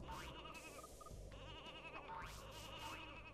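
Synthetic sheep on springs bleat in the Space Station Silicon Valley video game, wavering cries repeating over a busy game soundtrack, with no talking.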